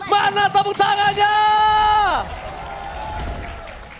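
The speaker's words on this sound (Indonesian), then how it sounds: "Mana tepuk tangannya?" An esports audience at a Mobile Legends MPL Indonesia match cheers: a long, drawn-out shout rings out over the crowd for two seconds, then gives way to a broad, steady roar of cheering and clapping.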